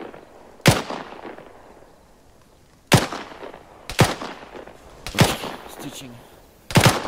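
Machine gun fire in the video game Arma 3, heard as five sharp, loud bursts spaced a second or so apart, each with a decaying echo, while a voice talks faintly between them.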